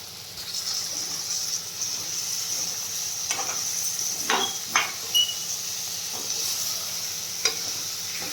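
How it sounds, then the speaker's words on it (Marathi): Stuffed brinjals drop into a pan of sizzling tomato gravy, a continuous hiss broken by several sharp clatters and scrapes of placing and stirring, close by and without talk. "तर यावेळेला आपल्याला आता याच्यामध्ये हे भरलेले वांगे टाकून देणार आहे मी."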